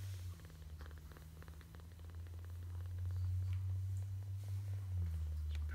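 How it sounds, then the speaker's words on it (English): A week-old abandoned kitten purring softly up close, a continuous low rumbling hum that swells slightly louder midway, alone with faint background hiss. "Purring a little bit."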